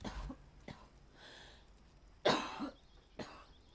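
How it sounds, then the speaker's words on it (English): A harsh coughing fit during a Days Gone gameplay session: several sharp, loud coughs come in uneven bursts, with a throat-clearing rasp between them and quiet gaps, all close to the mic. "Oh my gosh, I can't stop coughing."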